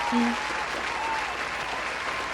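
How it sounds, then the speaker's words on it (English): A steady wash of applause, loud and continuous, with no distinct individual claps standing out. A short tonal blip occurs near the start. "let's give myself a round of applause for attempting to come back to YouTube"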